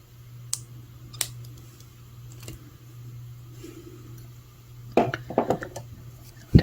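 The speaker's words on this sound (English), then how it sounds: "take my cutters and cut off my extra wire" Wire cutters snip excess wire while wire-wrapping a Czech glass bead necklace, giving a couple of sharp isolated clicks, then a quick cluster of small metallic snaps close by over a faint steady hum.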